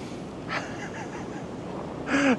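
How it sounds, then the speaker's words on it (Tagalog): Strong wind buffets the microphone at N Seoul Tower on Namsan, a steady rushing roar with gusts, and a voice briefly sounds near the end. "Sobrang hangin na nga."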